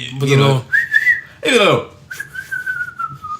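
A loud whistle of the sharp, piercing kind a referee blows at an NFL game, sounded as two sustained blasts with steady pitch and separated by bursts of talk.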